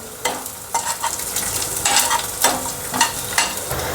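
Curry leaves dropping into hot oil for a buttermilk kadhi, a bright steady sizzle with periodic bursts of crackle and stirring knocks, close and loud, no talking.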